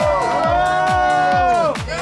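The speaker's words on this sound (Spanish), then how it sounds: "Un aplauso para estas dos chicas que terminaron la ruta" Crowd at a finish-line awards ceremony for the Bola de Goma cycling route in Chipilo cheers and whoops for two women who completed the course; a loud sustained shout with rhythmic pulses underneath, voices rising together.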